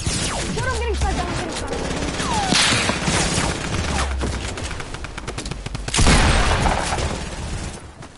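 Sniper and other gunfire crackles through a shooter video game, with sharp bursts and booms scattered over busy in-game noise, one loud blast near the end; players talk throughout.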